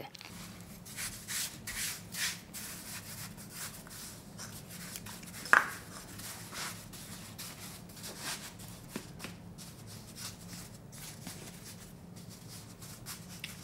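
Sticky cinnamon roll dough being rolled out on a floured surface, a steady soft rubbing and shuffling with one brief sharp knock partway through, close and quiet, with no talking.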